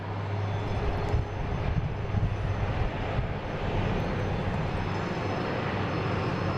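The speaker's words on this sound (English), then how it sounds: "then we have a Delta taking off, heading to Philly. E175, flight 5708." Delta Embraer E175 regional jet taking off from Boston Logan, heard as a steady distant engine roar with a low rumble that holds throughout.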